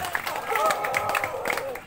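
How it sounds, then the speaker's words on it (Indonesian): Brief crowd clapping and cheering at a contest, dense and close, with voices talking over the applause. "Tepuk tangan untuk 108."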